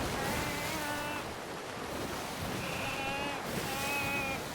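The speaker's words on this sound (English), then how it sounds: "That sound is this pig screaming for his life." A pig squeals from a ship at sea in the Sea of Thieves pirate game, with a few high, wavering cries over a steady wash of waves and wind.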